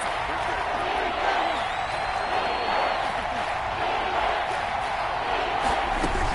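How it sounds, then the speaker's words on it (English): Stadium crowd noise in an American football video game on PS4, a constant roaring murmur of fans at third and goal, steady and moderately loud, with game commentary talking over it. "this is where the KC crowd can make it very tough"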